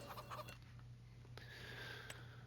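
Clucking chickens on a farm in Farming Simulator 25, a few soft, quiet clucks over a steady low hum of game ambience, with no other sounds standing out.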